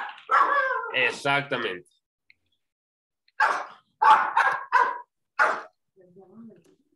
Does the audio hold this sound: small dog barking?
yes